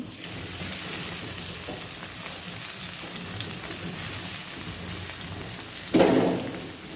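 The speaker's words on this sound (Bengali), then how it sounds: "পরিমাণ মতো তেল দিয়ে পেঁয়াজগুলো ভেজে নেব।" Onions fry in oil in a heated pan for a shrimp and tomato dish, a soft, steady sizzle throughout with a louder burst of crackling near the end.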